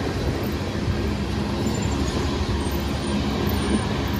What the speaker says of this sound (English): There's another train coming from westbound.